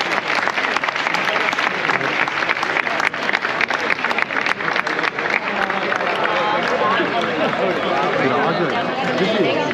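A large outdoor crowd at a giants parade in Palma, Mallorca claps loudly and continuously, with dense applause and cheering, crowd chatter mixed throughout.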